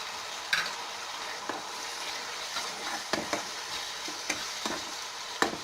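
Tomato paste sautéing in a pan for mutton keema with ginger-garlic and ground spice paste, giving a soft continuous sizzle with irregular spatula scrapes and taps, close and quiet with no speech.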